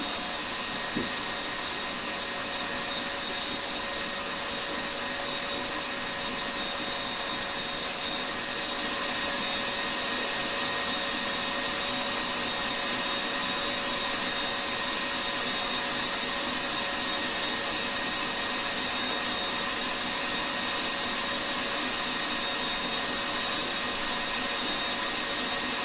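Stand mixer beating egg whites into a glossy meringue for traditional macarons, a steady whirring motor drone running continuously and evenly throughout with no talking.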